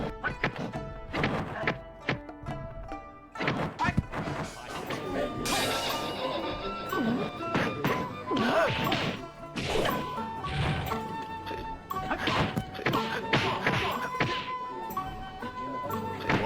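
Kung fu fight hits from the Shaolin Vs Wutang 2 video game: a dense run of sharp punch and kick impacts, smacks and whooshes over game music and effects, loud and continuous.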